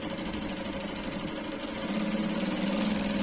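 Electric sewing machine stitching agbada fabric runs steadily with a dense mechanical hum and rapid needle rhythm, growing slightly louder toward the end, with no talk.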